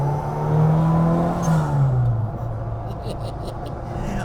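A turbocharged, fuel-injected classic Mini Cooper engine pulls hard, its note sweeping up and dropping as it accelerates, heard close from inside the car over steady road and wind noise.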